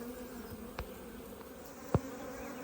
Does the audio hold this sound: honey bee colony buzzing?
yes